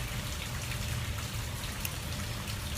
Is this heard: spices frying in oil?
no